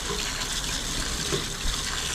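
Water rushing steadily through a roof gutter and downspout being flushed of a blockage, a continuous close gushing flow with no talk over it.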